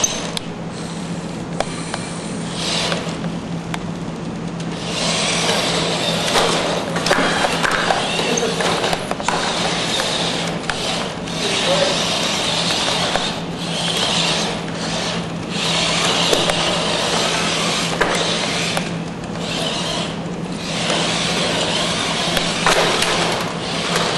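A small rescue robot driving around a competition arena scattered with blocks, giving a continuous mechanical rattle and rubbing clatter with a faint steady hum, irregular knocks and scrapes as it moves over the course.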